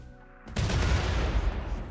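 A sudden loud boom from a mortar firing in RimWorld, a sharp blast after a quiet start that rolls into a sustained rumbling barrage, near and heavy.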